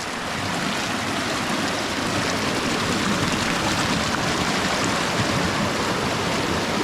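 A river beside village maize plantings flows in a loud, constant rushing wash heard up close, with no speech over it.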